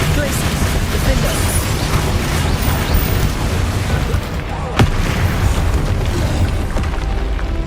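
Spell explosions in the Hogwarts Legacy video game boom continuously in a dense, loud barrage of blasts and rumbles, with combat voices mixed in.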